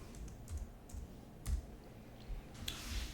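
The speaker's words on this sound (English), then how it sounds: "now I'm going to get rid of the G because it makes very little sense and type in Gary backup" Keys tapped on a computer keyboard while entering a file name in the Zorin OS Core desktop, a few scattered soft clicks at close range, fairly quiet and with no talking.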